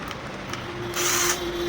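An Ingco cordless battery drill runs close by with a steady motor hum that briefly surges higher and louder midway, as when the trigger is squeezed harder, then settles back.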